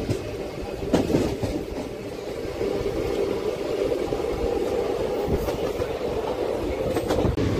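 A 12787 Nagarsol superfast express train runs steadily on the rails near Kondapalli, with a continuous loud rumble and faint clickety-clack from the carriages throughout, and no voices.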